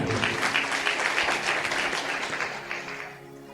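A congregation at a sermon breaks into loud, dense applause, a close and sustained wash of many hands clapping that fades slightly toward the end.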